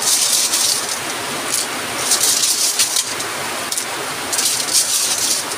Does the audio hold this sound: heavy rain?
yes